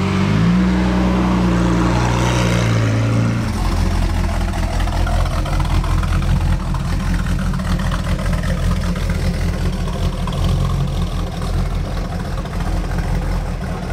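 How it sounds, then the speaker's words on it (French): A Pontiac car engine rumbles loudly and steadily at close range, its low throb shifting slightly early on before settling into a continuous idle-like drone. "Oh, le bruit de cette Pontiac."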